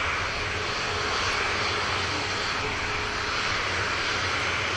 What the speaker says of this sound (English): EasyJet rotates.